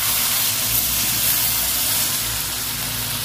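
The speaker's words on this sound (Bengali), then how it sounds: "এবার জল দিয়ে দেবো।" Water poured into a hot pan of potato, okra and shrimp curry makes a loud, continuous hiss and steamy sizzle. It stays close and steady throughout, with no talking.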